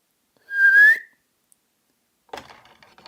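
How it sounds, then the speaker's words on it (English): A trainer whistles once for a sea lion, a single clear rising whistle about half a second long, followed by faint scattered clattering noise a moment later. "The trainer whistles for the sea lion Charlie."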